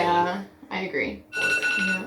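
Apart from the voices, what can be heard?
phone alarm ringing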